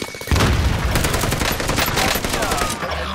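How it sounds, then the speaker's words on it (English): A frag grenade blows up in the Warzone shooter game with a sudden loud, close blast, followed by a dense, crackling roar that holds for several seconds. "Throwing frag grenade."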